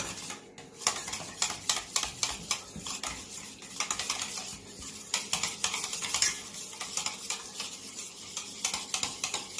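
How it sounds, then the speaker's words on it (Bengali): About half a kilo of sour yogurt (curd) is whisked vigorously in a bowl for dahi vada. Rapid, rhythmic scraping and tapping strokes sound close and continuous, with no voices. "এবার এটাকে আমরা এইভাবে ভালো করে পেস্ট করে নেব, ফেটিয়ে নেব দইটাকে, টক দইটাকে।"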